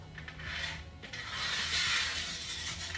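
Metal bolts slide and scrape along the bracket channel of a power running board on a 2014-2018 Chevrolet Silverado or GMC Sierra, giving close, gritty rasping and clicking for a few seconds.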